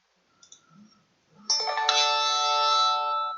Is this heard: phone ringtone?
yes